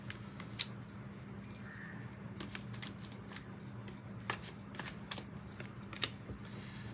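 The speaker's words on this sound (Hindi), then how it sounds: "3 कार्ड्स निकालूंगी मैं चैलेंज के लिए।" Tarot cards being shuffled and drawn for a yearly reading, heard as faint scattered snaps and flicks spread across the clip over a low steady hum, with no talking.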